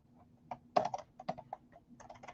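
Short bursts of keystrokes on a computer keyboard, typing a few irregular clusters of taps at close range, with no talking.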